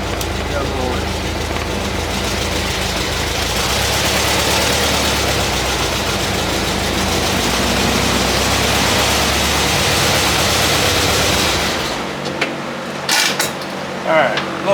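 A car engine under load at the very start of second gear, struggling with a fault, runs as a loud, steady broadband roar for about twelve seconds, then cuts off abruptly into quieter scattered clicks and knocks.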